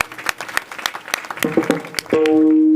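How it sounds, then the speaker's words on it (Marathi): Audience clapping at a kirtan devotional gathering, a burst of applause lasting about two seconds before a sustained harmonium-like tone takes over. "त्या तरुण मावळ्यांसाठी एकदा टाळ्या वाजवा."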